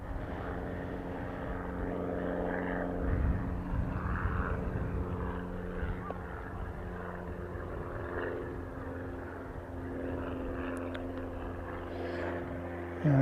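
An Air New Zealand passenger plane departs for Auckland, a steady distant engine drone with a low propeller-like hum swelling slightly around the middle, continuous and fairly faint with no talking.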